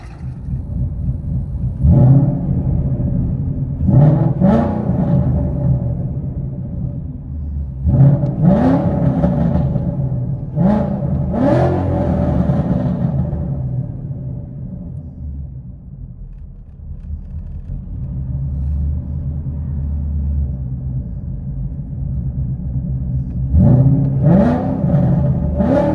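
Ford Mustang GT 5.0L V8 on E85 tune with long tube headers and Corsa Xtreme exhaust, heard from inside the car: repeated deep revving bursts and a rumbling idle between them, loud and close with no talking.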